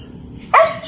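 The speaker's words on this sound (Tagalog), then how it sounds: "Sobrang ingay ng aso." A dog barks once, a single sharp, loud and close bark that breaks a quiet, hissy background.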